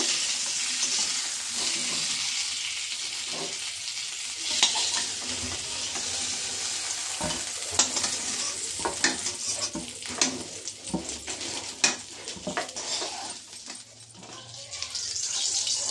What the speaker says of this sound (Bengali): বন্ধুরা দেখো আলু পটলটাও আমার ভাজা হয়েছে